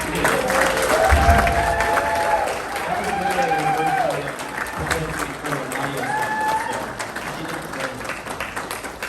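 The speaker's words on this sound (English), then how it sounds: "Let's give Alexis another round of applause." A gathering crowd applauds for a speaker, steady clapping running the whole time under a voice talking loudly over it.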